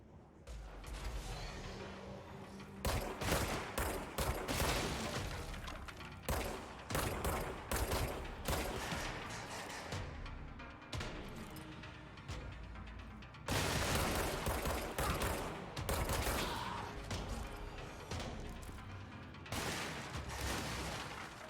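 Bursts of gunfire from the video game Control, rapid volleys and booming shots clustered in dense waves, loud and continuous for most of the stretch with brief lulls between flurries.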